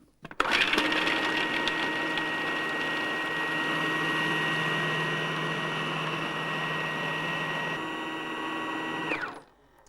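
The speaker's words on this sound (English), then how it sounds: "Then put the top on the processor, switch on." A food processor blends walnut and parsley pesto with a loud, continuous motor whir that starts abruptly, holds steady for about nine seconds with a slight pitch shift near the end, then winds down.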